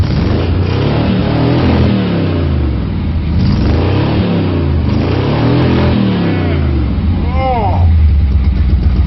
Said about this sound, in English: as you hear that low roar, that's the cherry bomb glass pack doing what they do best